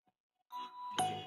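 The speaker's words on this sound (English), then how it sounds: "there's the bell" Bell rung to close a live futures day-trading session, a bright struck tone that swells and rings on for about a second, loud and close with nobody talking.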